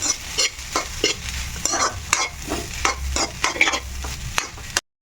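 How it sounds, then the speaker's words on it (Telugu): Leftover cooked rice being stirred and mixed with masala in a pan, with repeated scraping strokes and a steady frying sizzle underneath, close and fairly loud, ending abruptly in silence. "ఇప్పుడు చల్లి చక్కగా కలుపుతున్నాడు చూడండి మిక్స్ చేస్తున్నాడు"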